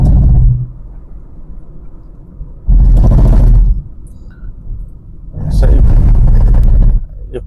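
A car passes on a forest ghat road, its rumble swelling loud and close in two bursts with quieter gaps between.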